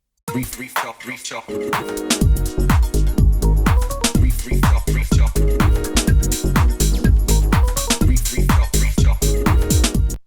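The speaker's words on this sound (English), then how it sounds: "that bass sound came from Blue 2" A punchy house synth bass from a Blue 2 preset plays a driving, repeating pattern with plucky, decaying notes over a steady beat, loud and continuous.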